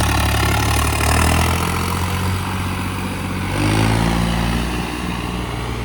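A tractor hauling sugarcane idles at the Morinda sugar mill, its engine giving a steady low throbbing rumble close by that swells briefly twice.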